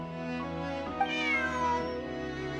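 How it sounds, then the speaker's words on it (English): A cat meows in Genshin Impact, one long drawn-out, fairly close call that rises and falls over a sustained musical drone. "Bonnie is Pierre's cat."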